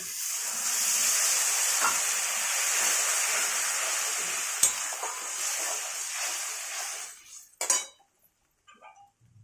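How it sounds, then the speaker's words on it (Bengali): Steady sizzling and frying hiss of onions and potatoes sautéing in a pan fills most of the clip, with a few clinks of a utensil against the pan before it quiets near the end. "তিন মিনিটের মতো কষে নিই দেখুন পেঁয়াজ আলুটা ভাজা হয়েও গেছে"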